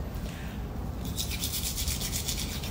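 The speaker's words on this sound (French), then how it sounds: "je me brosse les dents" Teeth being brushed with toothpaste, making a close, rough scrubbing rub that grows into quick rhythmic back-and-forth strokes after the first second, with no talk.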